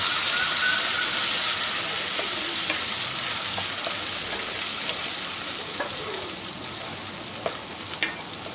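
Soaked, drained rice stirred and fried in a pan with green chilli, a steady bright sizzle that slowly eases, punctuated by soft scraping strokes and occasional clinks, close and alone.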